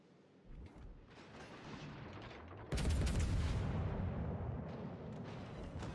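Warship guns fire in World of Warships Legends, a deep booming salvo followed by a heavier blast midway, with rumbling echoes trailing off in the distance.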